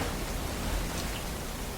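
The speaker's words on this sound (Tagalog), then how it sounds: "Umuulan na nga." Rain falls steadily in a broad, even hiss with no distinct drops or pauses, filling the whole moment without voices.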